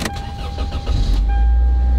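A Toyota Celica engine cranks briefly and catches, then settles into a steady, close, loud running drone with no talking.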